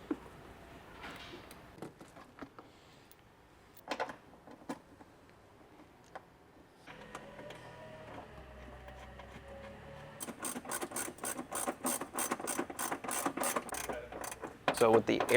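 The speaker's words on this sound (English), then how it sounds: "we can go ahead and take the factory hardware and we'll get this bolted back into place" Factory bolts are fastened by hand to secure an airbox back into a Toyota Tacoma engine bay, with scattered metallic clicks and taps first, then a fast run of ratchet clicks near the end, close up and without talk.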